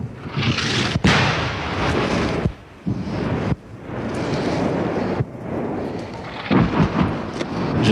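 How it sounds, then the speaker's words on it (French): Distant French artillery fire rumbles as a series of heavy, booming blasts with sharp breaks between them, mixed with wind buffeting on the microphone. "Je disais justement que l'artillerie française ne réagissait pas vite aujourd'hui. Ça tombe loin d'ici pour le moment?"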